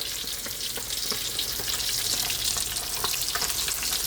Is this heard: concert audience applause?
no